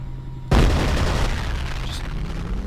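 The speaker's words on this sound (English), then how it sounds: "so let's lob a grenade over there" A grenade goes off in F.E.A.R.: one sudden, loud, close blast followed by a long rumbling roar of debris and echo that slowly fades.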